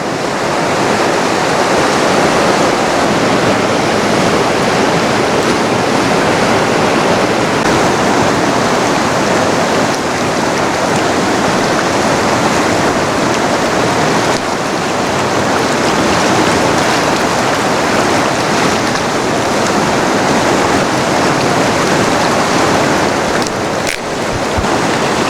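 Swollen, fast-flowing river on a British Columbia steelhead stream, roaring as a steady, loud broadband rush close by, continuous and unbroken with no voices.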